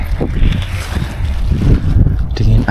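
Cold wind buffets the microphone on a foggy night hike up Mount Kawi near Malang, a loud continuous rumbling roar with no pauses.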